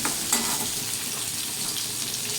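Cumin, chilli and tomato fry in oil for a fish curry, giving a close, dense sizzle that stays steady throughout, with one brief clink near the start.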